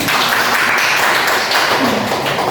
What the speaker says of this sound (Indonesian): Beri temannya aplaus.